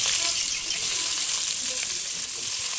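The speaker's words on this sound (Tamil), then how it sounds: "இப்போது அந்த வெங்காயத்தை நல்லா நல்லா வதக்கணும்" Onions frying in a pan with mustard seeds and moong dal for a manathakkali keerai poriyal, giving a steady, close, dense sizzle with no pauses.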